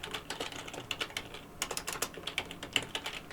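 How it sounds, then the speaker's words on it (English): Keys clatter in a quick, uneven run of clicks on an old computer keyboard whose keys stick, close and fairly loud with a brief pause midway and no speech. "I have an old keyboard, so it's sticking."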